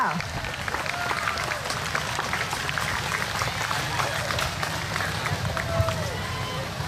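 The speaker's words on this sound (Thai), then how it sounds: "ขอเสียงปรบมือให้กับผู้สนับสนุนทั้ง 3 รายได้ค่ะ" Outdoor crowd at a beach cleanup event in Bangsaen applauds the sponsors, a steady, somewhat distant wash of clapping with crowd murmur and voices running through it.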